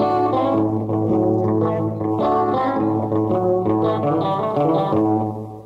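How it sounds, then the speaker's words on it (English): A Vox Thomas organ plays sustained chords with reverb added, the tones ringing on with a spacious wash behind them, loud and steady, with no voices. "First, reverb."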